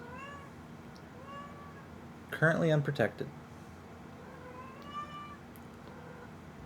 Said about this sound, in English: You don't have to meow at me.